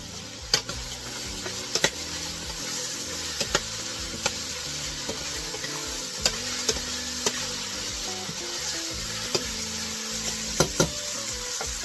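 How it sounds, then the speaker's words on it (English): Onions and celery, three stalks' worth, frying in a pot for black-eyed pea soup, giving a steady broadband sizzle with scattered pops and occasional stirring clatter, close and continuous with no talking. "Let's cook the onions for a couple of minutes. After the onions, we're gonna put the celery."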